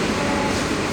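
An AC EMU suburban electric train runs steadily, with a continuous loud rumble and broadband rail roar heard from on board and a faint high whine, no talk.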